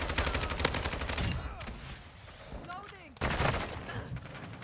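Loud, rapid bursts of video game gunfire from a shotgun, a dense barrage for over a second, then a lull with scattered reports and another heavy burst near the end.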